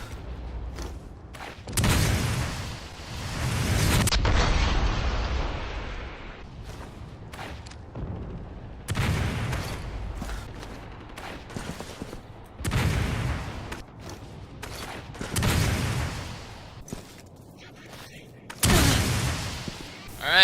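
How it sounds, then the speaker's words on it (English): Several sharp bangs and bursts in the game Resident Evil 6 as a flash grenade goes off, loud cracks followed by decaying rumbles, spaced across the stretch among gunfire and low game effects. "let's test the flash grenade out"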